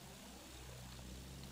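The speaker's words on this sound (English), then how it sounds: "Oh, there's an enemy plane." An enemy plane in a combat video game passes overhead, its steady propeller-engine drone filling the moment as a continuous, fairly faint hum with no speech.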